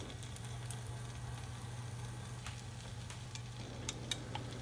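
An egg sizzles in a frying pan for a chicken-and-egg dish, a steady soft crackle with occasional faint pops over a low kitchen hum and no voices.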